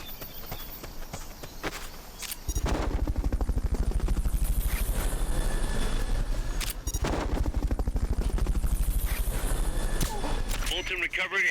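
A Fulton recovery helicopter in Metal Gear Solid: Peace Walker thumps with a loud, continuous rotor beat that swells partway through, joined by game sound effects and a radio-style voice.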